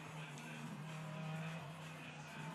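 A purple and green Lamborghini GT race car diving through turn one at Suzuka during the 10 Hours endurance race, a steady, distant engine drone with a sustained whining tone and no sharp breaks.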